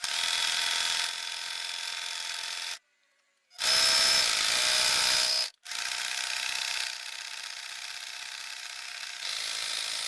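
A domestic sewing machine zigzag-stitches around a fabric placemat, a fast, steady mechanical rattle in three long runs, broken by one clear pause and a brief second gap, close and loud with no talking.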